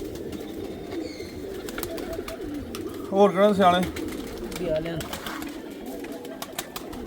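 Pigeons coo briefly at mid-distance, a short burst of cooing rising over steady background noise while someone talks throughout.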